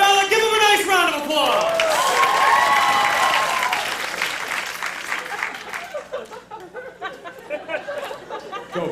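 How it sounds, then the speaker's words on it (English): A theatre crowd at a Twilight parody musical at New World Stages breaks into applause and laughter, a full burst that begins under sung and spoken voices, then thins into scattered claps and chatter. "Give him a nice round of"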